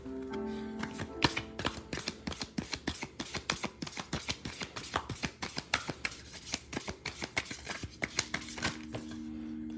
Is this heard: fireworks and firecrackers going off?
no